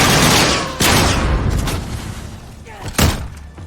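Gunfire in a Modern Warfare multiplayer match, loud close bursts of shots and heavy impacts over game noise, with talking over it.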